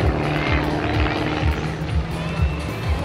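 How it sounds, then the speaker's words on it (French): A Diamond DA42 twin-engine airplane with two 135-horsepower diesel engines drones loudly at an air show, its pulsing propeller throb steady, with an announcer talking over it. "le DA42 qui est un avion moderne bimoteur, donc je le rappelle avec deux moteurs diesel de 135 chevaux"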